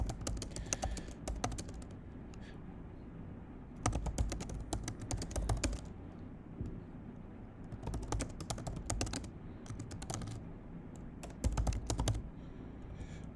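Rapid typing on a computer keyboard, bursts of dense key clicks alternating with short quieter pauses, close and steady throughout.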